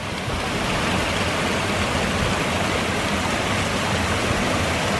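A swollen stream rushes through Iroquois Park after a night of heavy rain. It makes a loud, constant roar of churning water, close by and unbroken, with no voices.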